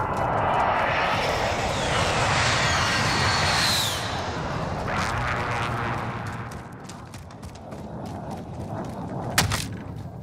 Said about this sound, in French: Cible identifiée. Drone ennemi au-dessus.